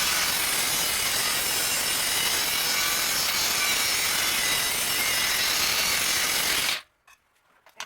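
An angle grinder cuts steadily through metal on a Hardbody, a loud, continuous abrasive whine with no talk that runs about seven seconds before stopping abruptly, then near silence with faint clicks.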